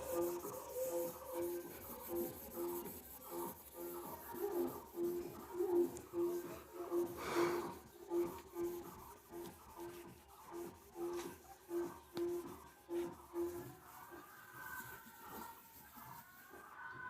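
Someone rubs writing off a board with a steady back-and-forth scrubbing rhythm, faint and close, repeating many strokes in an English class setting.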